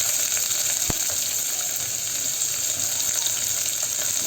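Onions frying in hot oil in a pan for drumstick sambar, a loud, steady hiss with one sharp clink of a utensil early on, close by with no voices.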